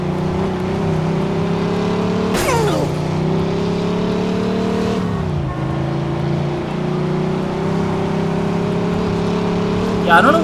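A car drives through an alleyway in Mafia II: Definitive Edition, its engine droning loud and steady. Pitch dips and rises briefly with gear changes, and a couple of short scraping bumps stand out.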